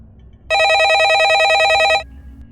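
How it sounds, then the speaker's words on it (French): A landline telephone in a video game gives one loud, steady electronic trill lasting about a second and a half over a faint low background hum. "Le téléphone fixe sonne"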